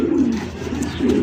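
A Lahori pigeon cooing close by, two soft low coos in quick succession, heard alone.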